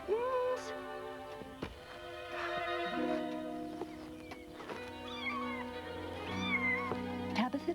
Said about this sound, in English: there was an old cat called Mrs. Tabitha Twitchit, who was an anxious parent